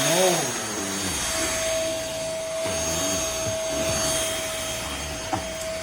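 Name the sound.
MBYULO cordless stick vacuum cleaner running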